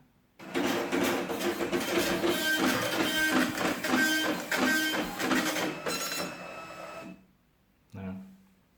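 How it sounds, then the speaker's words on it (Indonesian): An Epson LX-310 dot matrix printer prints an invoice, a loud, steady rasping buzz of the print head running back and forth in repeated passes for about six seconds, then a short mechanical paper-feed whir after a pause. "Misalnya saya print surat jalan di sini juga bisa."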